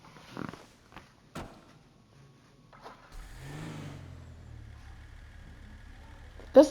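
A large truck engine in GTA Online cranks and starts, then settles into a deep, steady rumble that swells as it revs, close and loud, after a few sharp clicks.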